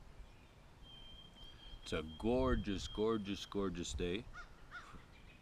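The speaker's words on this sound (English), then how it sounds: "listening to the birds." Crows caw outdoors in the background under a voice, with a few faint bird calls scattered through the moment.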